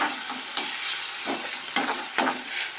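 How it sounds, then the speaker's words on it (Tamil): Ingredients sautéing in a pan while being stirred, with steady sizzle broken by several sharp scraping strokes of a spoon against the pan, close and alone without any talk. "ஸோ இதனால் போட்டு இதெல்லாம் வதக்கிக்கிறேன் நல்லா"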